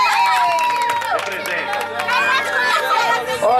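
A crowd at a birthday party in Vila Prudente cheers and shouts in a loud, continuous roar of overlapping voices, with whoops rising above it and a little clapping mixed in underneath.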